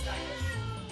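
A cat lets out a single short, angry yowl, close by and fairly loud, lasting about a second.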